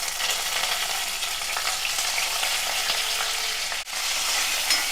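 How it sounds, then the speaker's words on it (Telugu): Mustard seeds, cumin, sesame and curry leaves sizzle and crackle in hot oil in a pan, a loud, steady hiss with small pops that runs throughout, briefly dipping near the end. "ఆవాలు, జీలకర్ర వేయాలి, అలాగే నువ్వుపప్పు కూడా"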